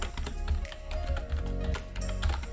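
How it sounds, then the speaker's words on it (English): Password being typed on a PC computer keyboard, a steady run of close, quick key taps with uneven rhythm over a low hum, no voices. "just type the password you previously used"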